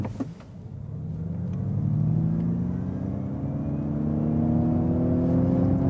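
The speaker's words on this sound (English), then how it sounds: "So, let's do the acceleration here in the untamed mode." A Ford Mustang Mach-E electric car accelerates hard in untamed mode, a loud, rising electric whine climbing steadily over a low road rumble with no talking.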